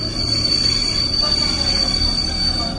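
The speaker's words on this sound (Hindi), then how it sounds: "वह ट्रेन मुंबई के ही एक दूसरे रेलवे स्टेशन पर" A train's wheels squeal steadily against the rails as it brakes into a railway station in Mumbai, a sustained high metallic whine riding over loud, continuous rumbling of the railcars, close and without pause.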